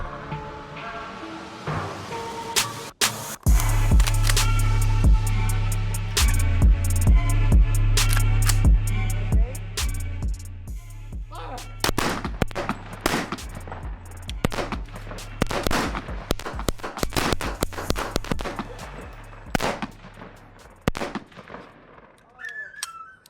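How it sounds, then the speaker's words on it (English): Gunshots are fired at a downrange target on a farm, sharp loud cracks in irregular bursts over a deep sustained rumbling drone, with a dense cluster of rapid shots in the second half. "look at a target downrange, and just start popping off some shots"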